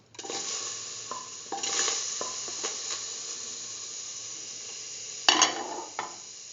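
Banana pieces sautéing in a pan with cardamom pods and salt, a steady soft sizzle broken by scraping stirs and a sharper clatter near the end.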